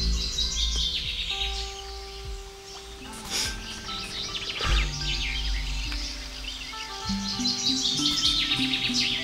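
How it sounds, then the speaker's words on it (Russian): Birds sing and chirp steadily on the bank of the Svislach river in Belarus during a bream fishing outing, a bright layered chorus of calls close by and further off, with faint rustling and no talk. "Птички поют красиво."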